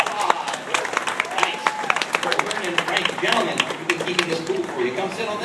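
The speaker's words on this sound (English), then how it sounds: "Give them a big round of applause." Audience applause for two performers invited on stage at a bird show, a dense spread of claps with a few scattered voices and whoops woven through.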